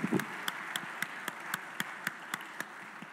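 A single person claps on the House floor for the pages, giving about a dozen evenly spaced, crisp claps at a steady moderate tempo, fairly close and alone with no crowd joining in.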